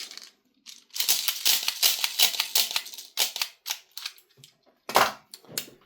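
A KWA Masada gas blowback airsoft rifle fires a series of rounds, sharp mechanical clacks in quick single shots and short bursts, close and loud, with brief pauses between strings.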